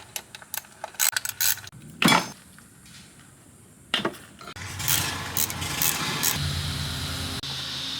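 Ratchet installing new spark plugs in a 2009 Toyota Matrix engine, with quick clicking ratchet strokes, metallic clanks of tools, and a longer stretch of rapid ratcheting close by.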